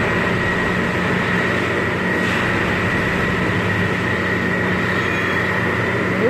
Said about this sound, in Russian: Наверное, калибрует рельсы, как Олечка говорила.